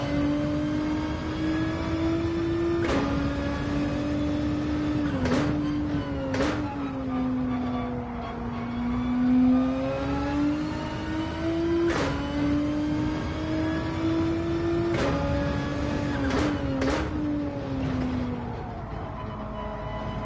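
A car engine revving in Gran Turismo 7, a steady loud drone that climbs and falls with repeated sharp gear shifts, rising and dropping pitch across a long run with no talking.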